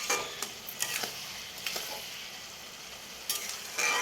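Water lily stems (shapla) cook down in a pan with a pinch of sugar, giving a low, gentle sizzle broken by occasional spatula scrapes against the pan.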